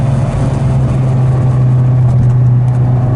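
A Lotus Esprit V8 engine roars steadily at close range, a deep sustained drone with a strong low hum, sounding like a powerful motor under acceleration.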